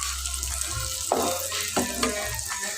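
An egg paratha fries in a small pan with a continuous close sizzle, punctuated by a few sharp scraping or stirring clatters from a utensil, and nobody speaks over it.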